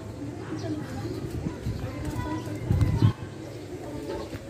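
Pigeons coo in low, soft bursts near a backyard loft, with a brief louder flurry like wings or feet as birds land, over steady outdoor background noise.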